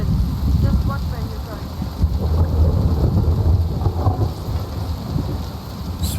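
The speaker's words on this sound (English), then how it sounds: "It's thunder and lightning." Steady rain pours under rolling thunder in the Kingdom Come Deliverance 2 video game, with a low rumble building through the middle.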